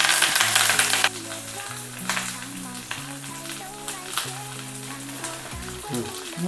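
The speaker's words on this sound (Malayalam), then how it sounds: "ചട്ടി ഇതിലോട്ട് വെക്കണം ഫ്രൈ ചെയ്യാനായിട്ട്" Hissing sizzle of mackerel frying in a pan, loudest in the first second, then steady beneath background music and some voices.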